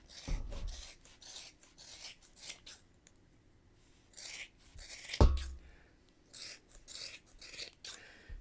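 Scissors snip and trim a yarn pom-pom by hand for a crocheted bamboo beanie, a run of close, quiet crisp cuts with uneven rhythm and one louder snap partway through.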